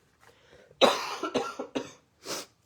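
A person coughs several times in quick succession, a harsh close burst followed by smaller coughs and a final separate cough after a short pause.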